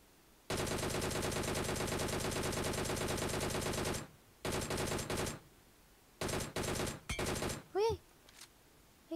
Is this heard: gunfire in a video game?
yes